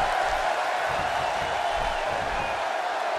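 An arena crowd in the WWE 2K16 video game keeps up a steady, dense roar of cheering during a wrestling elimination tag match. The wash of noise stays constant and fairly loud throughout.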